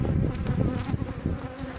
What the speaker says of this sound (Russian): Оп, осы садятся.